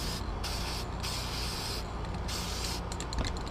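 Short hissing bursts from an aerosol spray can firing through a hole torn in a sheet of paper, several quick pulses with brief gaps, close and moderately loud against a faint steady background.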